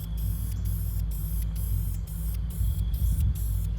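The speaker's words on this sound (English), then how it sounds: "Bring up and spray this." Primer sprayed from an aerosol can outdoors while restoring a Camaro with a small-block 305, a loud, continuous close hiss broken by brief rhythmic pauses, over a low steady rumble.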